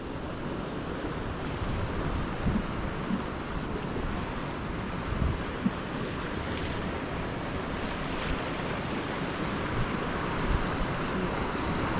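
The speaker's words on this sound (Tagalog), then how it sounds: "Di malakas alon." Sea waves at a night fishing spot, a continuous surging rush of surf mixed with wind buffeting the microphone, steady and fairly loud with no voices.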